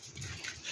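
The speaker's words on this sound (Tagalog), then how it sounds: "Gusto lumabas yung aking mga aso." Dogs stirring close by while being let outside, with a soft, brief whimpering yip.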